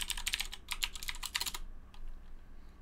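A sudo apt update command is typed on a computer keyboard as a quick flurry of crisp key clicks lasting about a second and a half, followed by near silence.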